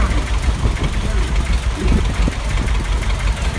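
A John Deere 730 tractor engine runs at a summer festival parade, a steady low, knocking rumble that stays close and loud under outdoor noise and nearby talk.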